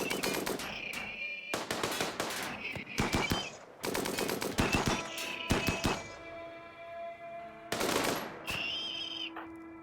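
Turret gunfire in RimWorld, sharp bursts of rapid automatic shots in several clusters with brief pauses between them and metallic ringing tails, fairly loud and close.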